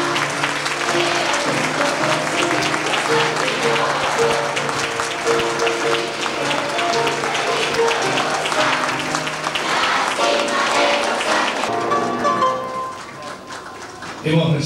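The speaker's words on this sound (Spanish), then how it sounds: "La recibimos con este aplauso." Applause greets ceremonial flags of provincial schools entering at a 1992 school centenary, a steady crowd clapping that fills most of the stretch with music-like tonal bands beneath, dipping briefly near the end.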